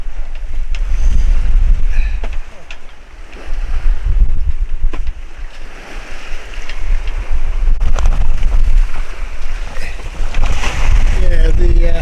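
Wind roaring over a microphone aboard a 22ft Macwester sailboat in rough seas off Anglesey, heavy low buffeting gusts with a brief lull, water sloshing against the hull and creaking rigging beneath.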